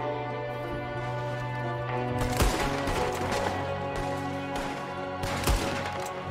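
Rifle shots ring out in Red Dead Redemption 2 as sharp, loud cracks at irregular intervals, set against a steady sustained background drone of game music and ambience.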